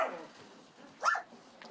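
A dog at an animal shelter gives a few faint, scattered yips and one brief louder bark, with quiet gaps between them and no talking.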